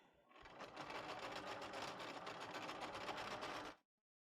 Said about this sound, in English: we will go forward a couple stitches and then go back to tack it.